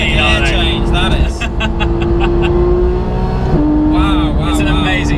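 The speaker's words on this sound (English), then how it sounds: "What a gear change that is!" A Porsche GT3 engine revs hard and holds a loud, steady howl. Its pitch drops sharply at an instant gear change just past halfway, and voices talk over it.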